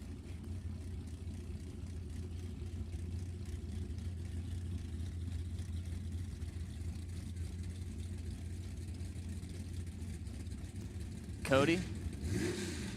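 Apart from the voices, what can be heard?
drag racing cars idling and revving, 64 Falcon and 70 Camaro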